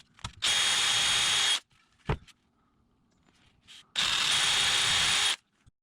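Power drill boring holes for eye hooks into the underside of a wooden ring toss game base, two sustained loud whirring bursts of about a second each with a short click between, no talking.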